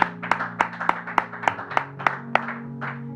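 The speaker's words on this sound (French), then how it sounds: "Acclamons pour la parole de Dieu." A congregation claps together in a steady, even rhythm, about ten sharp claps spaced roughly a third of a second apart, with a faint hum of voices underneath.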